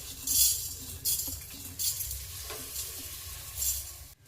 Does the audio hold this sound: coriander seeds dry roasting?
yes